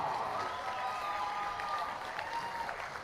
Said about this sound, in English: Everybody on their feet applauding, the boys and the veterans